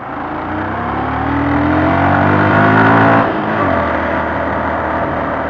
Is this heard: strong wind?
no